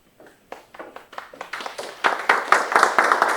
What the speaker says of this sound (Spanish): Y un aplauso para Julio.